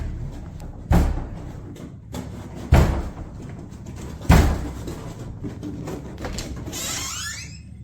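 A door slams three times at regular intervals, each a loud close thud, in a room with steady background noise and a faint scraping at the end.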